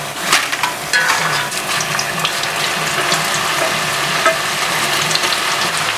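Plantain frying in hot oil gives a close, steady crackle and sizzle, mixed with occasional light clinks and scraping.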